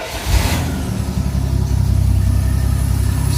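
A Rambler car's engine, fitted with a side-dump exhaust, catches after a brief cranking burst and settles into a steady, close, fairly loud idle with a deep rumbling throb.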